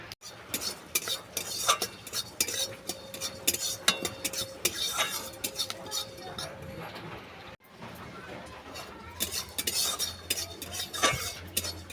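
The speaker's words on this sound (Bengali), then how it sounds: "এরপর শুকনো কড়াতে ফোড়ন ভেজে আমি সিটে গুঁড়ো করে নেব।" Whole spices dry-roasting in a dry wok, stirred with a metal utensil that gives rapid scraping and clinking against the pan, close and steady with a short pause partway.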